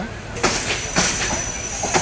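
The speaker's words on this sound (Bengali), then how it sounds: "ট্রেনটি ঢাকা বিমানবন্দর রেল স্টেশন থেকে ছেড়ে যাচ্ছে" Rangpur Express train pulling out of Dhaka Airport railway station, with passengers riding on the roof, gives a close, loud rumble, rhythmic wheel clacks and a metallic squeal.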